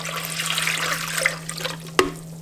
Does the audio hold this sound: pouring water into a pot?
yes